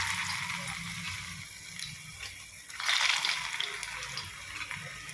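Cut bread pieces fry in hot oil or ghee for a bread dessert, a soft, steady sizzle that swells louder partway through, faint and close with no talking.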